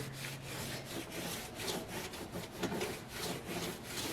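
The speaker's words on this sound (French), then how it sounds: "On va essayer l'autre brosse comme ça." A cleaning brush scrubs a surface with steady back-and-forth rasping strokes, close and even in rhythm, about eight passes in a few seconds, with no voices.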